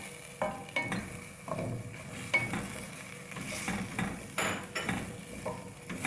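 Potatoes and softened tomatoes are stir-fried in a pot for pulao, a soft sizzle under repeated spoon scrapes and light knocks against the pan, quiet and close, with no talk.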